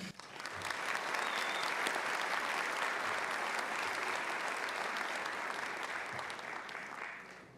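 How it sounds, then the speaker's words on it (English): An audience at an outdoor awards ceremony breaks into applause for a runner-up, a dense, even wash of many hands clapping that swells quickly, holds steady for several seconds and then tapers slightly. "Please give a loud round of applause to this year's runner-up"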